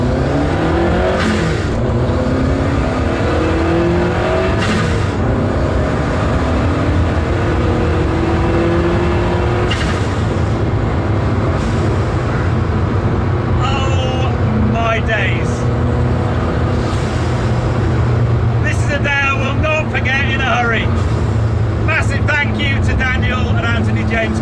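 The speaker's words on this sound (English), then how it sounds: "you fire up that turbocharged 2 litre, and off you go, baby" A Lancia Delta Integrale with its turbocharged 2-litre engine pulls away, a loud continuous engine drone heard from inside with rising revs and gear changes, while people talk over it.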